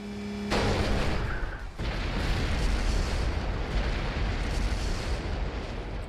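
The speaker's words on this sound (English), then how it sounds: "Boy, the explosion at 10 FPS." A loud explosion in the video game Kuro no Kiseki II begins with a sharp burst, then becomes a sustained, dense roaring rumble that lasts several seconds, with no speech over it.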